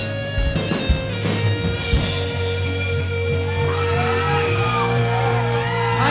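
A concert crowd at Whelans whoops, shouts and cheers loudly and continuously, a dense close wash of voices filling the room.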